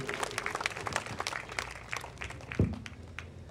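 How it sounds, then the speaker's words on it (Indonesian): A church congregation claps at a revival service in Kupang, giving glory to God; a moderately loud, dense crowd applause with scattered sharper claps, fairly continuous throughout. "Tepuk tangan berikan kemuliaan bagi Tuhan."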